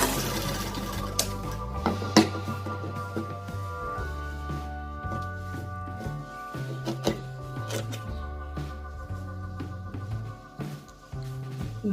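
A sewing machine stitches a strip onto gents' pajama cloth, rapid rhythmic stitching in several runs that start and stop, close and clear with no talking.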